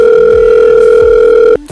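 Steady telephone dial tone with two layered pitches, loud and continuous for about a second and a half of a call to parents, then cut off abruptly, with faint background sounds beneath.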